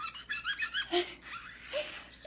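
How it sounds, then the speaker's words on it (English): A magic eraser wipes down a Radha diffuser plate, making a run of sharp, rhythmic squeaks and rubbing strokes close up, then a longer drawn squeak and scrubbing; no one talks. "I wipe it all down with my magic eraser."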